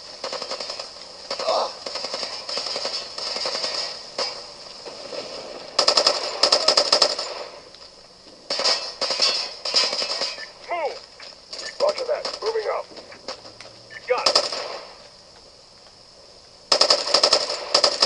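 Rapid bursts of machine gun fire in the PSP video game Socom Fireteam Bravo 3, coming in repeated loud volleys separated by short pauses, with in-game radio voices talking between and over the shooting.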